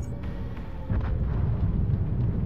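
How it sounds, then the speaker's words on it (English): Low, rolling explosion booms from the naval battle game World of Warships form a continuous heavy rumble that swells partway through and stays loud to the end. "I'm hearing explosions in World of Wars in the game I'm playing."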